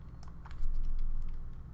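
Computer keyboard typing in short bursts of light clicks, fairly faint against a steady low background hum, with no voices.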